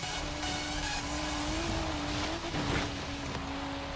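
A 2014 BMW M4 races in Forza Horizon 3, its engine holding a steady high drone with shifting pitch, tire noise and a brief surge of roar near the end, continuous and close throughout.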